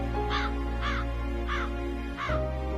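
A crow caws four times in a steady, evenly spaced rhythm, close and clear, over a constant background hum, with no talk.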